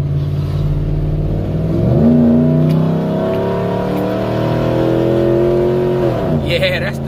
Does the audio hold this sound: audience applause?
no